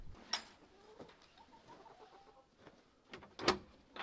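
Hens in a chicken coop make faint, soft clucks and low coos spread across a few seconds, with a couple of brief sharper calls, heard at a distance with no talking.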